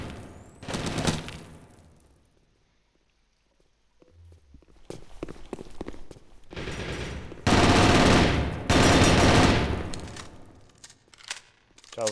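Gunfire in a competitive first-person shooter match, with bursts of shots fired through a wall: loud, broad crackling volleys that come in separate clusters, the loudest near the middle, and quieter footstep-like clatter between them.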